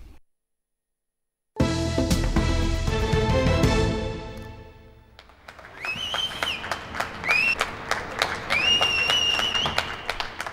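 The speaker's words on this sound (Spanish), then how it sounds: "Fueron los primeros aplausos a los sanitarios" Neighbours clapping from their windows for health workers, scattered applause echoing between buildings, starting abruptly after a brief silence and carrying on with whistles and shouts mixed in.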